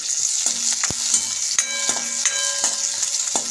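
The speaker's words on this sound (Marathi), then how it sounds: "ते लिंबू ॲड करूया हे पण छान असं परतून घेऊया" Green chillies and chopped lemon stir-fry on a hot griddle with a steady, close sizzle, punctuated by several sharp scraping clicks of a spatula at irregular intervals.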